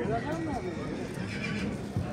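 A horse whinnies in rising and falling cries at the Tokmok livestock market, close and fairly loud, while people talk over it amid crowd noise.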